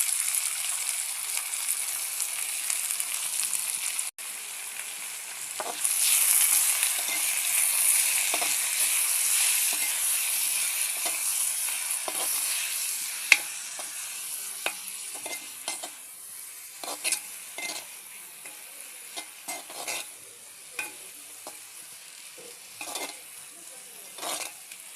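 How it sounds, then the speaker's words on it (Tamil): Green chillies, onion and dried chillies fry in a pan with a steady, bright sizzle throughout. Occasional scrapes and taps of a stirring utensil sound close by. "பச்சை மிளகாய் வெங்காயம் பொரிஞ்சிருச்சு"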